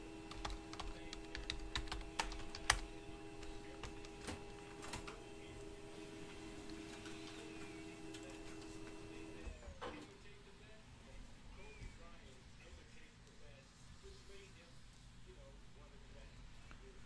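A printer running steadily to produce a list, a constant mechanical whir with faint ticks that drops to a quieter hum partway through, low in level.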